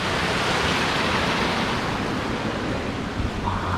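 Water rushing and pouring in from all sides at a remote spot in Portugal, a dense, continuous roar that fills the space and stays close and loud throughout with no let-up.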